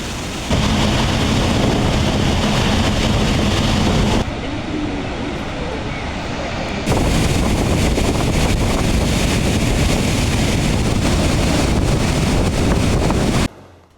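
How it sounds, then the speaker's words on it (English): Water rushing through the opened sluice gates of a dam after heavy rainfall, a loud continuous broadband roar with wind buffeting the microphone; the sound cuts briefly to a quieter level midway before the roar resumes. "All sluice gates have been opened due to heavy rainfall and the water is being released into the Randanigala reservoir."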